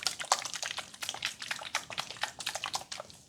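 Soft, close water sounds with a steady run of small trickling drips and splashes, quiet and intimate, with no talking.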